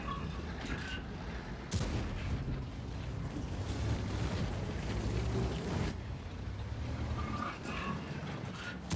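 In the video game World of Tanks, booming tank cannon shots from an Object 430U battle ring out over a steady rumbling engine drone, with a couple of sharp blasts standing out in a continuous battle din.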